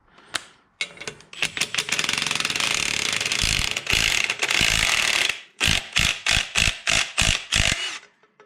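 A socket wrench ratchets on a bolt of a Kubota compact tractor under repair: a long run of fast clicking, then a series of separate, loud ratchet strokes in a steady rhythm, with no talk.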